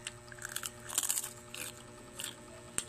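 Crunchy fried vegetable snack bitten and chewed up close, several crisp crackling bites and crunches in a quick irregular run, with no talking.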